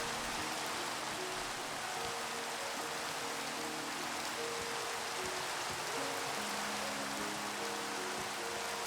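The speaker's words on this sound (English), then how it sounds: "the heavy rain." Heavy rain during a thunderstorm in Minecraft, a steady, dense hiss of downpour lasting throughout, with faint low tonal game music underneath and no talking.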